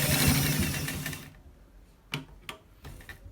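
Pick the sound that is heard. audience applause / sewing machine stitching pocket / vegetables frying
sewing machine stitching pocket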